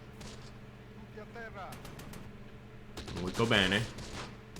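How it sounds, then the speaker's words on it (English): Mortar fire in the World War II strategy game Close Combat: The Bloody First, in an Italian defensive battle, with scattered sharp thumps over a low rumble while someone speaks briefly. "Pretty consistent mortar fire, too."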